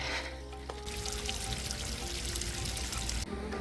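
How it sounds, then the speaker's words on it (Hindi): Monsoon rainwater falls down a mountainside beside a walking trail near Rishikesh, a dense, steady rushing pour heard close and loud with no talk. "देखिए पहाड़ों से ऐसे पानी गिरता है।"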